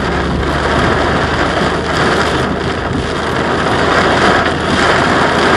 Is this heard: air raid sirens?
no